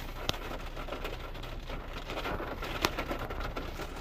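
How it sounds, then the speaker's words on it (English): Steady rain falling outdoors, a soft, even patter of drops with a couple of sharper single drop hits standing out, fairly quiet and with no voices. "It's still raining."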